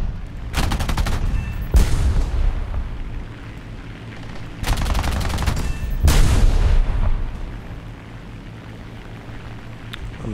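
Bursts of machine gun fire from a CR.32 biplane in the War Thunder air combat game: two long, loud rattling volleys, each split into a pair of close runs, with a steady engine drone underneath.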